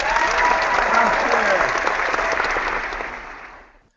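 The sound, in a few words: round of applause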